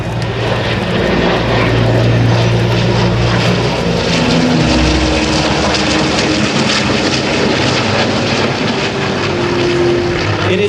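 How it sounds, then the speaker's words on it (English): An F4U Corsair and a Navy F/A-18 Hornet fly past together at an airshow over Hampton Roads. The loud, sustained propeller drone and jet roar swell and shift as the pair passes overhead. "From the right and over your shoulder, inbound, Dan McCue in the F4U Corsair and Lieutenant Adam Hoff in the Navy's FA-18 Hornet."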